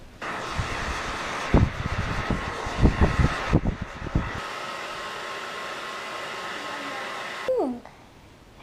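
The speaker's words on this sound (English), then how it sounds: "let's go blow dry your hair" Hair dryer blowing a small child's hair, a loud steady whooshing roar with a few thumps and brief voices at first, ending abruptly as the dryer switches off.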